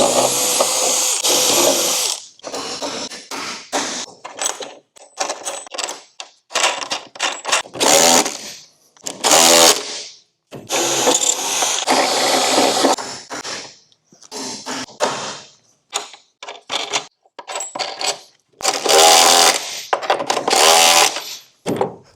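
Power tool driving fasteners through metal angle brackets into wooden dock joists at the rim joist, heard as repeated close, loud bursts of whirring and grinding separated by short pauses.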